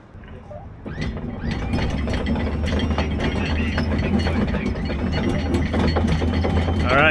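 Sailboat anchor chain paying out about 30 meters, a rapid ratcheting clatter of links over a gypsy that starts quietly and then runs loud and continuous, with a squeal at the end.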